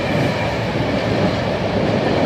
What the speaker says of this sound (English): Here comes another Metro-North.